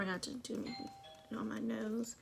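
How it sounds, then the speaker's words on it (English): Home doorbell chiming with a couple of sustained electronic tones while a person talks over it. "I have company. That was my doorbell."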